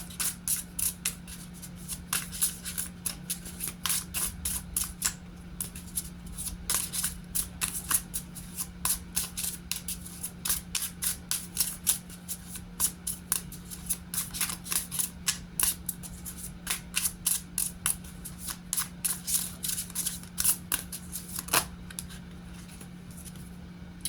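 Tarot cards are handled and drawn for a reading, with a long, steady run of crisp flicks and snaps as the deck is shuffled, close and continuous.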